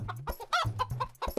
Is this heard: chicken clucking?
yes